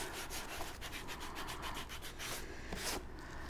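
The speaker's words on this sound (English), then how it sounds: "when you do sand a book, the text block like this" Abrasive scraping of the text block of a book being sanded, a steady close rubbing with quick back-and-forth strokes throughout, fairly quiet and with no talking.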